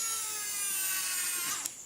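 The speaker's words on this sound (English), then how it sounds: "I'll use my electric driver here to drive it in" Electric screwdriver whirring steadily up close as it drives a screw into a wing servo mount, a high continuous motor whine that dips slightly near the end.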